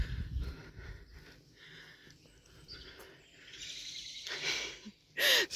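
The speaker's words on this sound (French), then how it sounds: "C'est un merle." A bird sings in short phrases outdoors, fairly distant and soft, over a quiet background of insects and rustling, ending with a brief loud knock.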